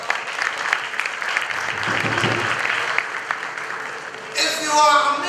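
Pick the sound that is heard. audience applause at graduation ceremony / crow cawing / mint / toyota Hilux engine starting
audience applause at graduation ceremony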